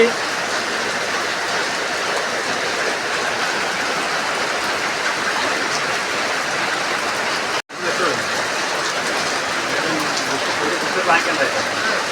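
Monsoon rain pours down in a steady, dense hiss of drops on surfaces, unbroken except for one very brief dropout partway through.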